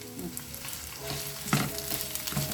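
Bajji chili peppers frying in oil over a flame: an even, close sizzle with a few louder bursts and stirring sounds midway, and no voices.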